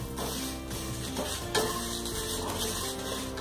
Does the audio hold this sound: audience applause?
no